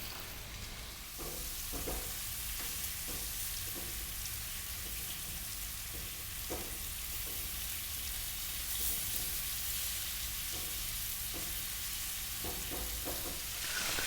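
Marinated, spiced lamb pieces browning in a hot pan give a steady, dense sizzle and fry that runs the whole time, with a few louder pops and the occasional clack of a utensil as the meat is turned.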